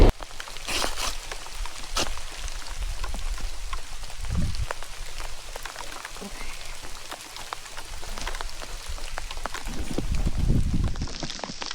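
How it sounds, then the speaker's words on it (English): Steady rain falling on a dirt road in a Colombian disaster zone, a dense patter with scattered louder drops and a few heavier thumps, close by and continuous. "Why must it always rain every day?"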